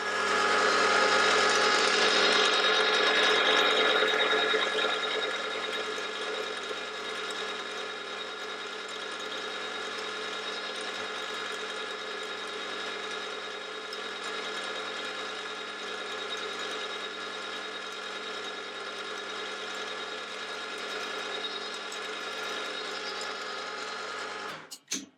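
A small 2.4mm twist drill bores a pilot hole in metal on a machine while making a spring-loaded tap guide, giving a steady, continuous whirring hum with a high whine that runs alone for about 25 seconds before stopping abruptly.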